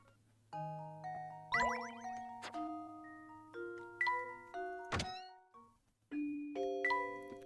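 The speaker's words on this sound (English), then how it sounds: "My phone goes off for the cat alarm." A phone alarm from the Professor Layton video game plays a bright chiming melody of ringing, bell-like tones in several separate phrases. Each tone sounds clearly and alone.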